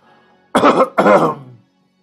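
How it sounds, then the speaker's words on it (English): Two deep, rough coughs come from the back of a man's throat in quick succession, close and loud against a quiet room. "That's this deep cough back of my throat"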